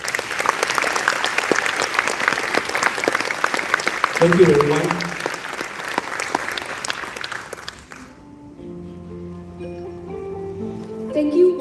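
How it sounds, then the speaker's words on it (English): Audience applause at a closing plenary of an international conference in Kuching, Malaysia, a dense steady clapping for several seconds that stops abruptly, after which a speaker's voice carries on over the quieter room. "May I invite you to join us in giving them a big round of applause."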